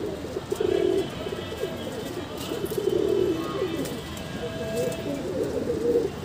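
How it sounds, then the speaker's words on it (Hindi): A pair of red pigeons coo in soft, repeated throaty bursts close by, with a few short pauses between calls and a faint voice in the background. "ये है मेरे घर के लाल कबूतर का जोड़ा, तांबड़े कबूतर का जोड़ा बोलते हैं जिसको"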